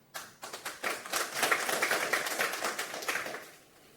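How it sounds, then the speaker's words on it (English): Audience applause welcoming the next speaker at a technical conference talk, starting as a few separate claps that quickly swell into steady clapping from a small crowd, then fading near the end. "Give a warm welcome applause."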